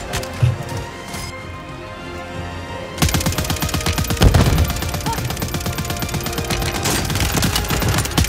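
Rapid automatic gunfire from a gun in Call of Duty Warzone, with sparse shots at first and then a dense, loud, sustained rattle of fast bursts from about three seconds on.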